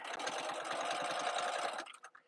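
A sewing machine with a jeans needle stitches through vinyl mesh for a tote bag, a fast, steady mechanical rattle that runs loud and close, then slows and stops.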